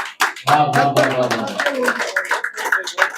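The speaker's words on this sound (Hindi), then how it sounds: "जोरदार तालियां हो जाए भैया के लिए" Audience clapping for a performer at a Hindi comedy or poetry show, a burst of applause mixed with a voice talking over it near the start.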